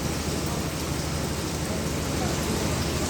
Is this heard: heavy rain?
yes